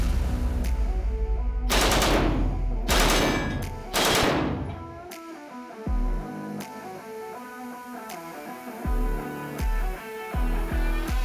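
An RPK machine gun in 7.62x39 fires at body armor, with two long loud automatic bursts up close followed by several short bursts spaced out after pauses, with no talking.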